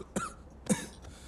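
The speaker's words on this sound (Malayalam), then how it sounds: "ചുമ." A man with a sore throat gives two short, dry coughs about half a second apart, close and fairly soft, with faint room quiet between them.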